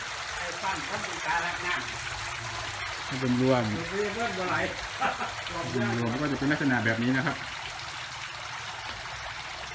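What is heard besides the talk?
water flowing in an indoor artificial waterfall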